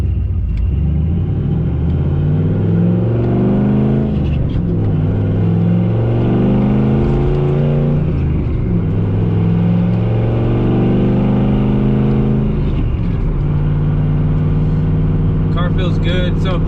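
A Pontiac GTO drives and accelerates, its engine rising and falling through several loud, close revving pulls with gear-change dips, rumbling steadily between them.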